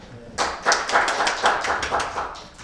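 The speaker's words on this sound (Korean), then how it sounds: "박수 많이 할까요?" A burst of applause from an audience at a lecture on the space economy starts suddenly and carries on steadily, many hands clapping together like a crowd in a hall, loud and close.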